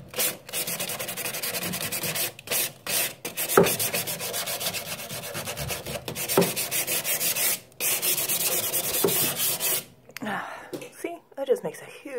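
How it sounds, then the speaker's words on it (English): Hand sanding dirt and grime off rails, repeated rough back-and-forth rasping strokes, close and loud, with short pauses between bursts and a person talking at the end. "just a tiny bit of sanding"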